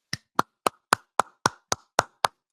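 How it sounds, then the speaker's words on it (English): Nine sharp hand claps in a steady, evenly spaced rhythm, close and clear with nothing else heard, given by a podcast host reacting to a guest's remark. "That deserves a clap."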